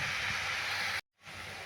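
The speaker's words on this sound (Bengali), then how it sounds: "এবারে শাকটা ভাজছি" Note saag greens fry in a pan with a brief, steady broadband sizzle. The sound drops out for a moment, then resumes, with no voices.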